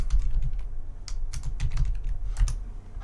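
Keys clack in quick, uneven bursts on a computer keyboard, close and clear, with a steady low hum running underneath and no voices.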